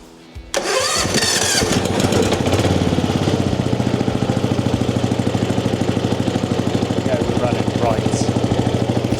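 A racing lawn mower engine under repair cranks briefly, catches, and settles into a loud, steady, rapidly pulsing run close by.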